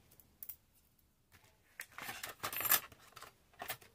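Scissors snip out a paper craft piece for a sugar cube project, a few short crisp cuts and rustles spread across a quiet stretch, close and fairly soft with no talking.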